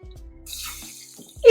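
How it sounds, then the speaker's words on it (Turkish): Drinking water poured into a pot over flax and chia seeds, a short splashing stream that runs for about a second, close and moderately loud, ending in a sharper clink. "200 mililitrelik içme suyunu da ilave ediyorum"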